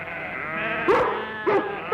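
Two short bleats of sheep rise over a steady background of animal noise, one near the middle and another shortly after, as a dog chases them.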